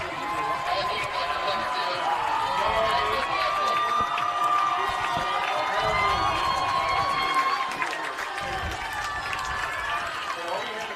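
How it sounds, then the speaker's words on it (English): A crowd at a girls' state high school softball game cheers and shouts steadily throughout, with an announcer talking over the noise. "So the crowd comes to life as Aubrey Allstott"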